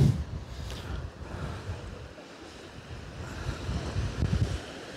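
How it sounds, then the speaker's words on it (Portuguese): Sea waves and gusty wind on the coast of Itamaracá island in Pernambuco, a steady rushing surf with buffeting wind noise on the microphone and swells rising and falling, no one talking. "Olha aí para você que gosta de ver o mar, né?"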